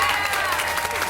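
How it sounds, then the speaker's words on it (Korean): Children's church service congregation gives a short burst of encouraging applause, a brief moderate wash of clapping with some background voices. "같이 박수로 격려하겠습니다."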